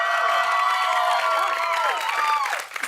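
A talk-show studio audience cheering and applauding loudly and continuously, with rising and falling whoops over a wash of clapping.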